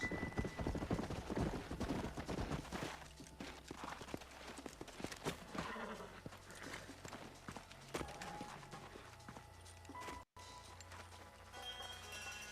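Horses' hooves clip-clop in the video game Red Dead Redemption, a busy run of sharp hoof strikes over a low rumble that thins into scattered steps, with brief neighing and gunfire-like cracks in the mix.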